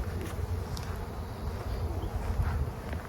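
Honey bees hum in a soft, continuous buzz over a hive frame with drones among the workers, a low steady drone with small flickers of louder wingbeats close by.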